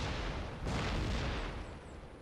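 Cannon fire in Empire Total War, heavy booming volleys that swell into a loud sustained rumble midway and then gradually fade, without any voices.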